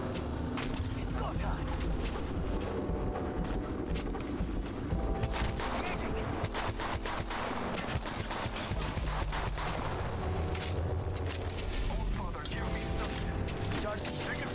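Gunfire rattles through an Apex Legends ranked match in dense rapid bursts and scattered shots, mixed with game effects and players talking over it.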